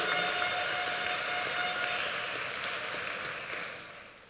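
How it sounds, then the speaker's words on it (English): Audience applause at the ESHS 2017 graduation ceremony: a dense, steady wash of clapping from a large crowd that holds strong, then gradually thins and fades toward the end. "Give the institution and the students a round of applause"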